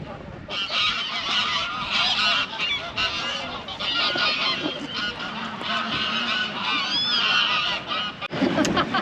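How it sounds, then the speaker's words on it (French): A flock of geese honks loudly and continuously, many overlapping calls close by, with a brief burst of louder honking near the end. "je crois que les oies, elles ont la dalle. Elles broutent."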